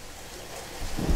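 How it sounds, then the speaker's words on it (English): A rain and thunder effect in a puppet show, steady hiss of rain with a low thunder rumble building toward the end, fairly faint. "Rain would come down."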